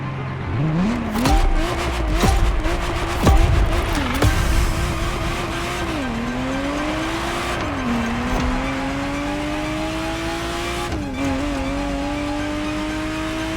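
A Ferrari Testarossa races in The Crew Motorfest, its loud engine climbing through repeated revving gear changes, each shift dropping the pitch before it rises again, with brief tire noise early on.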